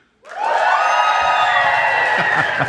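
A live audience at a Boise show erupts into loud, sustained cheering and whooping that starts abruptly after a brief silence and holds steady to the end, dense crowd noise filling the room.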